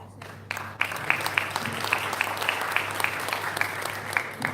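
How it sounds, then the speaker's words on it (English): Audience at a blockchain conference panel in Bali applauds after the discussion ends, steady moderate clapping with a few sharper individual claps standing out, heard from mid-distance in a hall with a low hum. "Give applause to the three panelists."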